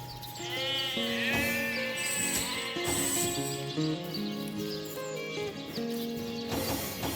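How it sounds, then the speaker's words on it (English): Sheep in the video game Divinity: Original Sin bleat repeatedly in wavering calls over several seconds, fairly close, with faint background game sounds and no talk. "That's a sheep."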